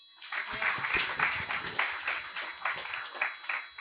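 A group claps together for a winner at a university relations session, a steady burst of many hands applauding at moderate volume for a few seconds.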